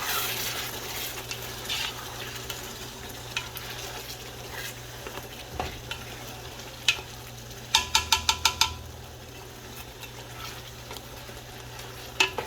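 Greens frying in a pan while being stirred to keep them from burning, a low steady sizzle with scraping and a quick run of close metallic clinks from the utensil partway through.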